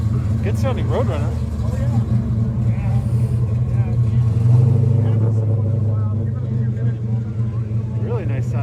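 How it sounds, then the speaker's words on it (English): A steady, throaty low idle from a Plymouth Road Runner at an outdoor car show, with a slight swell in the middle and chatter from nearby voices over the engine. "Really nice sounding Roadrunner."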